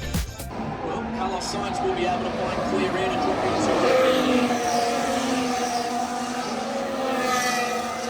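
Formula 1 cars race past a corner at the Singapore Grand Prix, their high engine whines rising and falling at a distance beneath continuous nearby talking.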